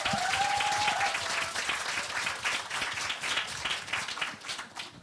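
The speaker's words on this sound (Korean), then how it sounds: "여러분 큰 박수 부탁드립니다." An audience at a talk concert for dental and medical clinic leaders bursts into sustained applause, a dense wash of clapping that stays strong, with a brief whistle-like tone near the start.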